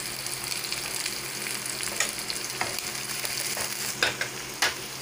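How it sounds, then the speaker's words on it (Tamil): Chopped onions and green chillies frying in oil with mustard seeds, a steady close sizzle with a few sharp spatter pops and light stirring knocks. "இப்போ நம்ம இதில் வந்து வெங்காயம் சேர்த்துக்கலாம்"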